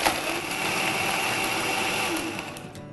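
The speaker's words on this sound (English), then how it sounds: "it's really simple to just blend this up really quickly" A blender runs at full speed, whirring loud and steady as it blends a smoothie of banana, ice, pomegranate juice and berries, winding down slightly near the end with no voices.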